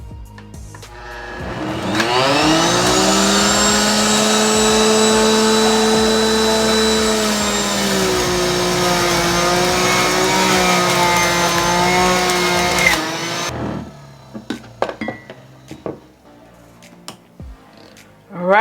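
A Nutribullet Juicer Pro, a 1000-watt juicer, runs on turbo while juicing an apple, giving a loud, steady high-pitched motor whine for about eleven seconds before it cuts off, followed by scattered clicks and handling noises.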